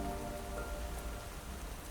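Steady rain falling on a surface on a rainy day, a dense continuous patter of drops that stays fairly even and close throughout, with no voices.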